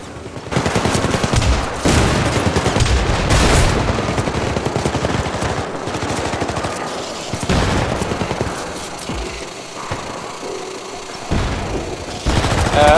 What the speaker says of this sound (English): I got an immune Sergeant Williams shooting me right now